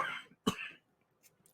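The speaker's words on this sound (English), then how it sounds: "Pardon the cough." A single sharp cough close to the microphone, a brief burst followed by a short raspy tail, then near silence.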